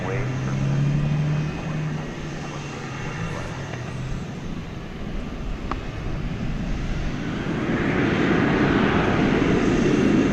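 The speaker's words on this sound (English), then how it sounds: "Headed off now to Seattle. It's an Airbus A321 American Airlines." An American Airlines Airbus A321 jet leaves DFW Airport at night with a broad, rumbling roar that builds toward the end. Voices talk over it at times.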